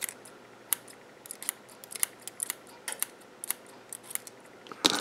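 Scissors snip through cotton wick while a coil is wicked on an iJoy Tornado vape atomizer, giving a quick series of crisp, close cuts at an uneven pace, with no talk.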